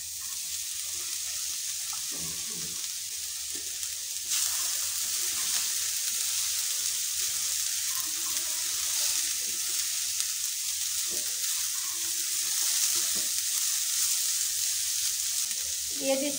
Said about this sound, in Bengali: তো এখন এখানে দিয়ে দেব আমি কুচি করে রাখা বিনস।